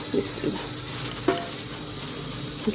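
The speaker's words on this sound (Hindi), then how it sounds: "सबसे पहले मैंने घी डाला है" Ghee going into a pot for beef yakhni pulao, with a steady low sizzle, a few scrapes and clinks of a utensil against the pot.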